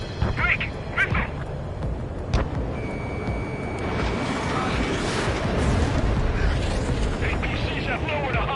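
In Ace Combat 7, an incoming missile builds into a broad roaring explosion that swells and lingers. Jet engine noise and radio chatter from voices run under it.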